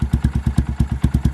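A 2022 Honda Grom motorcycle fitted with a Yoshimura RS-9T race exhaust idles on a cold start, a loud, close, evenly pulsing thump at roughly eight beats per second.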